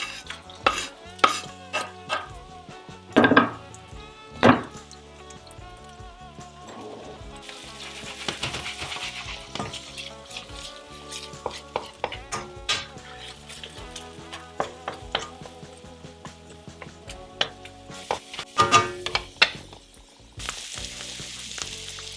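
Dried chili and fresh ingredients sizzle in sesame oil and vinegar in a hot pan for a crispy Asian sesame chicken. A steady frying crackle runs throughout, punctuated by sharp clinks and scrapes of utensils stirring the pan, with no voices.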